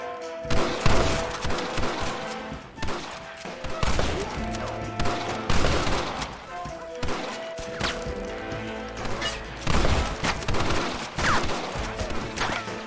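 Rapid, loud gunfire fills a video game shootout in Red Dead Redemption, with dense bursts of shots and impacts over tense music and shouted voices throughout.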